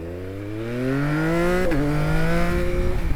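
A 2022 Yamaha MT-09 motorcycle engine accelerating, its three-cylinder tone climbing steadily in pitch, dipping briefly at a gear change, then rising again, loud and close with no talking.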